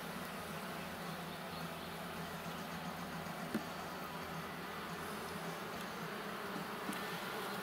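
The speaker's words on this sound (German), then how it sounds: "Junge Bienen, wie ihr seht." Young honeybees crowd a feeding comb in a hive used for Miller-method queen rearing, giving off a steady, dense buzzing hum that holds even and close throughout, with no talking.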